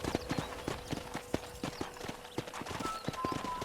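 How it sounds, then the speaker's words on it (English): Rhythmic horse hooves clip-clop at a steady trot in the video game Red Dead Redemption, close and clear, with a faint animal whinny near the end. "let's see if you can still ride a horse."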